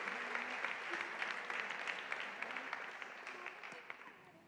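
An audience at the Enactus Italia National Competition 2022 award ceremony applauds with dense, steady clapping that carries on evenly and fades slightly at the end.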